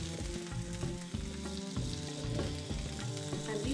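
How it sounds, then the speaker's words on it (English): Fish frying in hot oil in a pan over a slow fire, a close, continuous crackling sizzle with rhythmic bubbling bursts. "the oil is heated up, then you put the fish in the pan"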